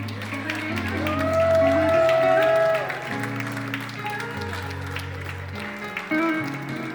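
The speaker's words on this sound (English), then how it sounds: "I want you to clap while we take some pictures" Gala audience applauding while pictures are taken, a dense clapping wash that swells then eases, with music and voices running underneath.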